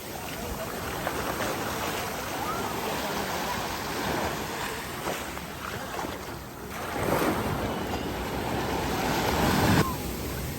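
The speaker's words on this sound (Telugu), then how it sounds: "సముద్రం చాలా పోటు మీద ఉందండి" Waves at high tide roll onto Rushikonda beach in Vizag, a continuous broad roar of surf and wash that swells louder near the end, heard from the shore.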